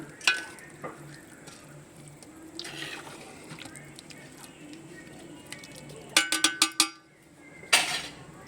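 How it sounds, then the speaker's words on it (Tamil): Basmati rice in a chicken dum biryani pot being gently stirred, soft scraping and low cooking noise with a few sharper utensil knocks near the end. "மெதுவாக லைட்டாக அப்படியே கலக்கி கொடுங்க"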